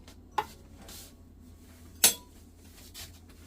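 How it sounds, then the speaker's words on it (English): A spoon stirs a tangerine drink mixture, giving two sharp clinks against the container about a second and a half apart, with softer faint taps between them in a quiet room. "let me mix up, give it a little stir"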